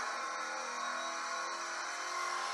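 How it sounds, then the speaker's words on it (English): Car engine noises played back through a small speaker on a Land Rover Defender ride-on toy, a steady thin droning hum with faint revving, fairly quiet and unbroken. "we got a YouTube video up of car noises just to demonstrate it."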